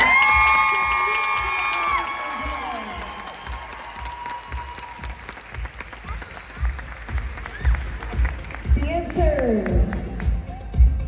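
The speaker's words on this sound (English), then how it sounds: "Please give them a round of applause." Audience applause and cheering at a dance nationals competition, clapping building again after a spoken announcement over a PA, with crowd shouts and whoops rising toward the end.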